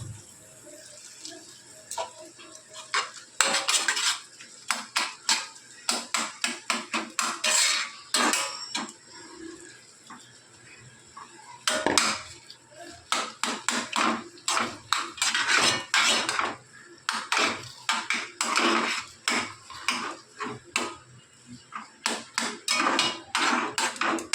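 Potato and spice filling for aloo kachori stirred in a pan, a long run of repeated metal clinks and scrapes of a spoon against the pan in uneven bursts, fairly close, with no voices.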